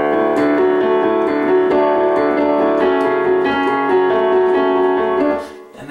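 A solo piano plays two measures of a piece as sustained, resonant chords and melody, loud and close, fading out at the end.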